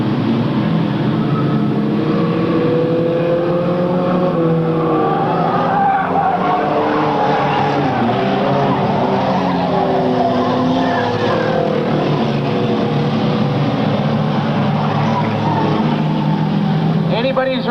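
Race cars circle a track at speed, engines roaring continuously and loudly with tire squeal, and an announcer's voice running over the din.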